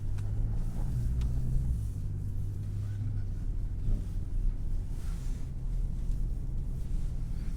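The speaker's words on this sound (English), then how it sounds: "I'm just having a look at this car" A car drives out past a gate in rural Lancashire, a low steady engine rumble heard from a nearby vehicle, rising and easing slightly over several seconds with no speech.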